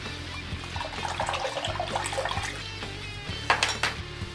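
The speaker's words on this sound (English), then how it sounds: "So we're going to rinse this out and clean it up" Running tap water splashes and trickles over an aluminum safety razor from Cecil & Henson as it is rinsed, a continuous close wash with a few sharper clinks and splashes toward the end.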